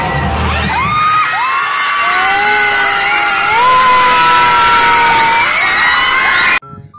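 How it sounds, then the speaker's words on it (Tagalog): Students at a school MAPEH dance event whoop, scream and cheer loudly over a noisy crowd, with shrill rising shouts overlapping continuously before the din cuts off abruptly near the end. "Grabe po yung mga hiyawan ng mga estudyante."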